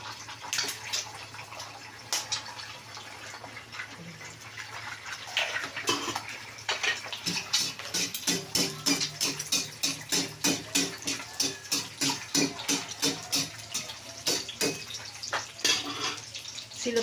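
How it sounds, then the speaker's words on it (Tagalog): Eggs frying in a pan for a tiny-fish omelet, a close, steady sizzle and crackle with sharp pops that grow into a fast, rhythmic spatter through the second half, with no talk. "Inuuna ko lang pagprito yung itlog."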